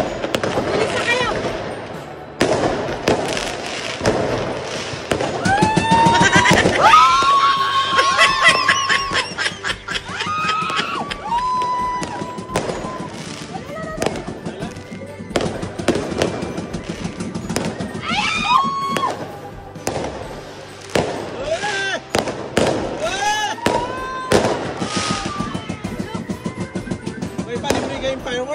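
New Year's Eve fireworks and firecrackers burst in rapid crackling volleys, loud and close, with people shouting, talking and laughing throughout.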